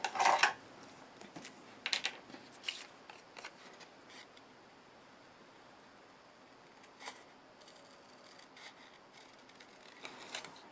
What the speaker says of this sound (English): take my scissors and cut that out with my scissors